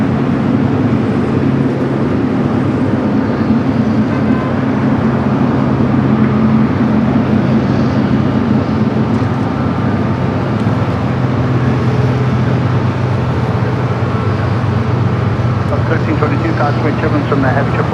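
A Boeing 777-300ER jet airliner at LAX airport, a loud steady roar of jet engines filling the scene continuously while a voice talks over it.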